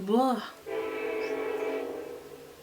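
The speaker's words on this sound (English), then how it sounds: "Please excuse the train." A train passes outside a room, its horn blaring briefly before a sustained, steady rumble and tonal drone that carries on loudly throughout.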